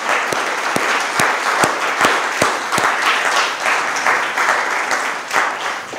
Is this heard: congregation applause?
yes